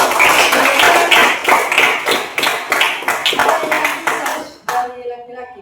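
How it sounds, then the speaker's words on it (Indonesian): A group claps hands after a physical education forward-roll lesson, a brisk run of many overlapping claps that is loud and close, then tapers off and stops abruptly, followed by faint voices. "Tepuk tangan untuk"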